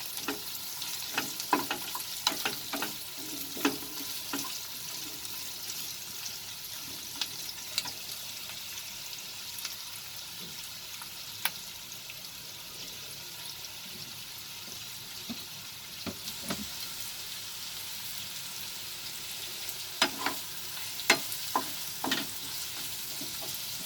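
Brinjal, potato and onion sauté in a pan over a raised flame, a steady soft sizzle and frying hiss running throughout with intermittent clicks and scrapes of stirring, close up and without talk.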